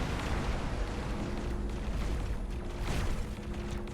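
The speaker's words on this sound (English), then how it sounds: "Explosion imminent." A ship explodes in a space video game with a sustained, loud, rumbling roar that swells and fades over several seconds.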